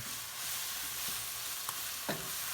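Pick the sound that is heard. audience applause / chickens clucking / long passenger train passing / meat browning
meat browning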